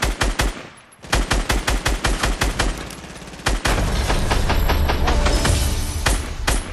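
Rapid bursts of automatic gunfire in Fortnite, first as evenly spaced repeating shots, then a brief pause before a denser, continuous volley with heavy impacts, loud and close.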